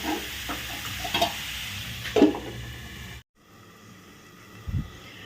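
Fenugreek leaves frying in a pan, with a close, quiet sizzle and a few clicks of stirring, then a sudden drop to a muffled, fainter hiss as the pan is covered, with one more soft knock near the end.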